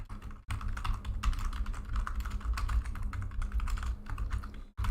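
Steady computer keyboard typing, close and fairly loud, with rapid clustered keystrokes running nearly continuously for five seconds over a low hum, with brief pauses near the start and end.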